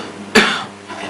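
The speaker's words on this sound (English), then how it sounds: "lastly we can ask the patient to cough" One sharp, close cough from a patient during a medical examination bursts out and trails off quickly, with faint background murmur around it.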